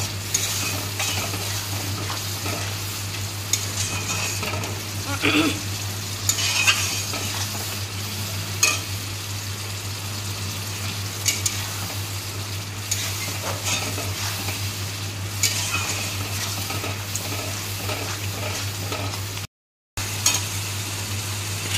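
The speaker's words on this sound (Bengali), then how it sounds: "এই যে এবার আমার রসুনটা একটু ভাজা হয়ে গেছে।" Garlic sizzles steadily in a hot pan while a utensil stirs and scrapes now and then, close by, with a constant low hum underneath.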